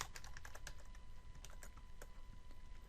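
Fingers type on a computer keyboard while entering a Minecraft plugin command, producing a steady run of close, crisp keystrokes with no talking.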